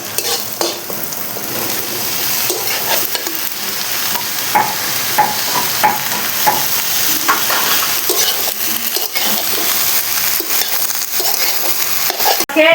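Cut vegetables tumble into a hot pan for a chachchari of small Ganges river fish, sizzling steadily while a spatula scrapes and stirs with irregular knocks against the pan, close and fairly loud with no talking.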